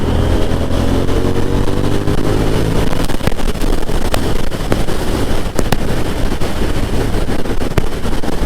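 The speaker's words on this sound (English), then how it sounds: "This exhaust, for being factory, it does have a nice throaty low sound" A 2021 KTM 890 Duke motorcycle in sport mode, its factory exhaust giving a low, throaty sound: a rising engine tone at first, then loud, rough crackling rumble over steady roar and wind.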